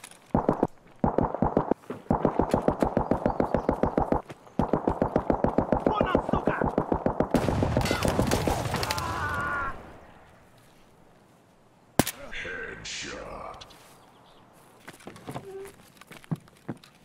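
Automatic gunfire in the shooter Escape from Tarkov, loud rapid rhythmic bursts lasting several seconds with short pauses, then quieter scattered game sounds and a sharp crack near the end.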